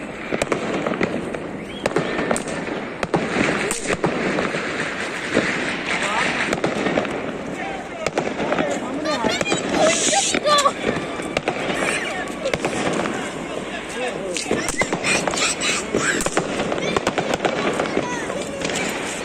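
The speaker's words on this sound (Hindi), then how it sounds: "ये चारों तरफ से आवाज़ें आ रही हैं पटाखों की।" New Year's firecrackers in Italy crackle and pop continuously from all directions, dense overlapping bursts near and far, with people talking and shouting underneath.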